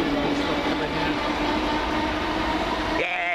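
A London Underground train pulls into Stamford Brook station with a loud, steady rumble and a whining tonal hum from the motors, its pitch shifting near the end as it slows.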